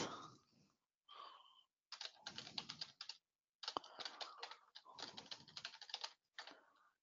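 Bursts of rapid keyboard typing, close and fairly quiet, broken by short pauses between runs of keystrokes.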